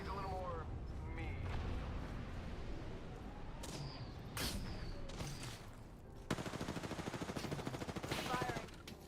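Gunshots and rapid automatic fire in the battle royale game Apex Legends: scattered shots at first, then a dense, loud burst near the end, with voices talking over parts of it.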